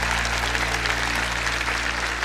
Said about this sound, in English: give a good, strong round of applause for those with us for the first time